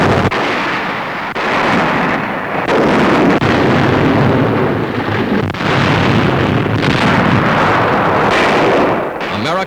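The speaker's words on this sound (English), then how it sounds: "Allied infantrymen move up in the wake of the opening 2-hour barrage." Sustained roar of a WWII artillery barrage in Italy, heavy rumbling booms rolling on continuously and loudly throughout, with wind buffeting the recording.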